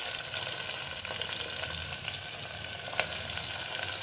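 Onion frying in a pan for a soybean curry, a continuous close crackling sizzle at moderate loudness with faint stirring scrapes and no talking.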